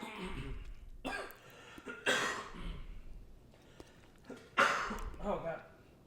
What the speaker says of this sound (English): It's like that cough where you feel like something's gonna be productive